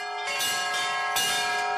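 Church bells ring at a Russian bell-ringing festival held with a crafts fair, with two clear strikes and a long, resonant ringing tone sustained between them.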